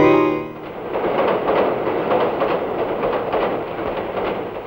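A train runs on rails with a steady, loud rumbling roar and a faint rhythmic clatter that continues unbroken throughout, with no voices.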